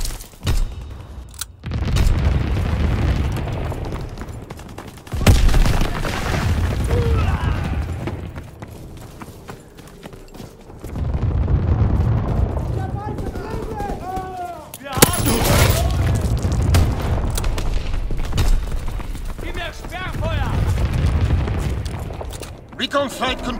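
Flak anti-aircraft guns fire in Call of Duty WWII, long dense bursts of booming fusillade that come in waves, with game radio voices over the barrage.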